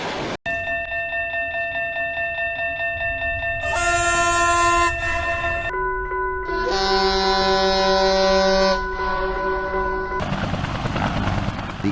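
Train passing a railroad crossing, with long, loud horn blasts over a steady rolling rumble that carry on across several changing tones.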